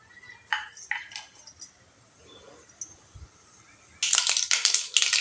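Mustard seeds splutter and pop in hot oil in a kadai, with scattered sharp crackles that burst into a dense, louder run of popping near the end, close by with no talking.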